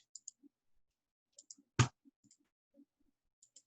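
A computer mouse gives a few sharp single clicks with soft faint handling sounds in between, in an otherwise quiet setting.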